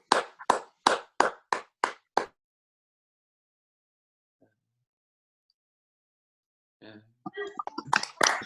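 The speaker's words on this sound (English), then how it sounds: "So just a quick clap for carers from everyone" Participants in an online union meeting clap for carers: a quick run of about seven sharp, evenly spaced claps, then silence before scattered clapping and voices return at the end.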